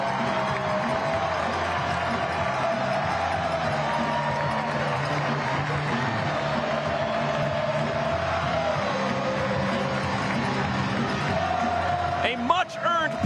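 A soccer stadium crowd roaring after Cameron Dunbar's goal for Orange County SC against Colorado Springs, a sustained broad cheer filling the air under a commentator's voice.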